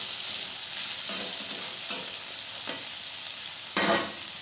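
Steady sizzling of potatoes frying slowly in a pan over a medium flame, with a few scrapes of a spatula as they are turned, close and continuous with no talking.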